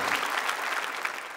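An audience at an evening stand-up comedy show in Jogja claps in a dense, steady burst of applause that lasts throughout the brief moment.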